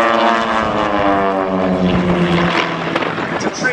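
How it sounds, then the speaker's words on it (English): A propeller-driven aerobatic display plane from the Trig Team performs at the Biggin Hill airshow, its engine drone loud and near with a sliding pitch as it passes overhead, sweeping through the whole stretch. "this has always been one of the absolute favourite display aeroplanes"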